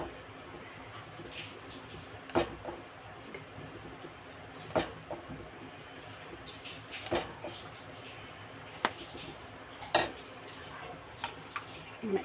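Metal idli mould plates for rava idli are set one on top of another, giving sharp, isolated clinks every couple of seconds over a quiet kitchen background.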